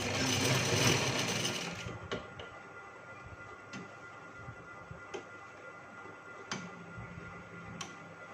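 A sewing machine stitches elastic into a trouser waistband, running in a brief louder whir at first, then settling into spaced, distinct mechanical clicks over a quiet background.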